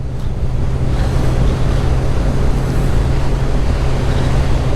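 A continuous, rough Kawasaki Ninja 1000 engine roar with a low droning hum and breathy induction whoosh, steady and loud throughout, with no talking.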